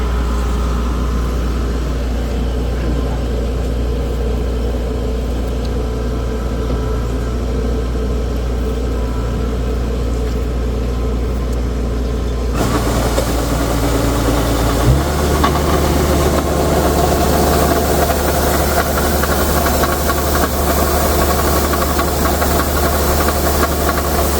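A tractor engine runs steadily with a low, knocking rumble throughout, close and loud, the tone shifting partway through as if revving up.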